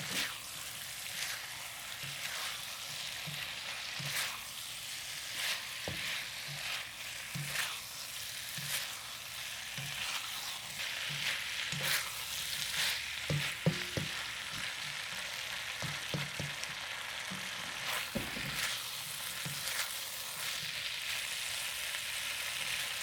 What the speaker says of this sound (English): And now you're gonna put the shrimp in it.